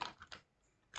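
HTML code typed on a computer keyboard, a few quick soft key clicks in a short burst, then a pause and one more keystroke, close and faint.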